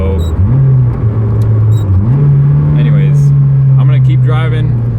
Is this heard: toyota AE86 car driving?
yes